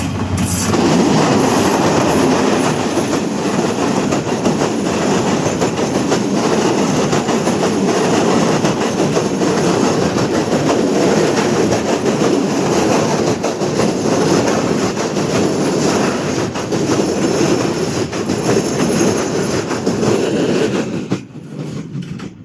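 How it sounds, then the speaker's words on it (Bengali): A train rolls loudly past close by near a station in the Moshakhali area, a continuous heavy rumble with wheel clatter and rattling cars that holds for about twenty seconds before easing off at the end. "ট্রেন আপনার সামনে দিয়ে আসলে পাশ কাটিয়ে চলে যাবে"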